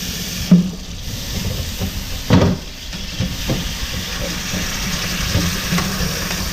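Hot aluminum bar quenched in kitchen water, giving a steady steam hiss with a few brief louder bursts of sizzle, close by and without talk.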